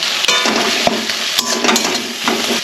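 Ginger paste, chilli powder and turmeric with soft tomato frying in a pan for a fish curry, a steady close sizzle with spatula scrapes and stirring clinks running throughout, no talking.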